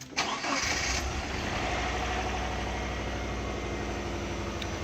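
A Subaru car engine cranks briefly and catches, then settles into a steady, fairly loud idle that runs on alone with a constant low hum and no voices.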